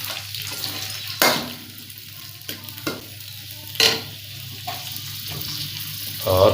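Chopped onions frying in hot ghee in a wok, with a soft steady sizzle under repeated sharp scraping strokes of a spoon stirring, close and clear, no talking.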